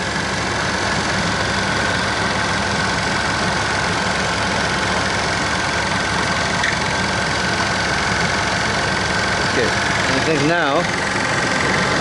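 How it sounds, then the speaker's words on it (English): A car engine idles with its AC compressor running continuously during a refrigerant top-up, making a steady, loud, close drone and rattle under a voice. "See, our compressor is going non-stop now."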